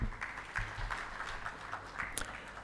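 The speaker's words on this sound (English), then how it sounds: "you may want to give another round of applause to the colleagues here." An audience at an education conference gives a faint round of applause, a thin spread of scattered claps heard from a distance.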